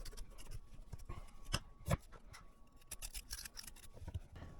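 A knife cuts a turnip into bite-sized chunks, giving scattered crisp chops and scraping on a board close by, irregular and fairly quiet, with no voices.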